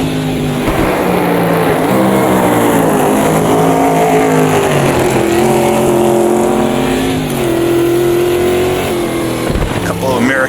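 An American race car in the Automobilista 2 racing game roars loudly and continuously at the Rouen circuit, its engine pitch climbing and dropping through gear changes as it slides downhill through the French countryside.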